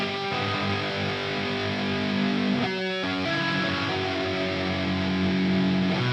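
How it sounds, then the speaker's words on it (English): A distorted electric guitar lead plays over a full band mix, gritty and sustained, with a brief dropout near the middle before the music resumes. "I can little hear the distortion come through there"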